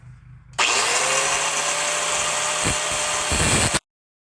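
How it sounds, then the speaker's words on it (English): A cutoff wheel grinds on a Hercules oil pump in a continuous loud, close burst of about three seconds that starts and stops abruptly, with no talking. "Let's see if we can get in there with this cutoff wheel and just kind of clean with it a little bit."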